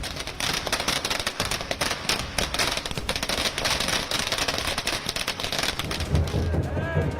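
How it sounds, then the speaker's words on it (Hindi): Firecrackers burst at an election victory celebration in Jharkhand, a dense crackling barrage of rapid sharp pops running continuously over crowd noise and a speaking voice. "जीत का ऐलान होते ही रांची से दिल्ली तक पटाखे फूटने शुरू हो गए।"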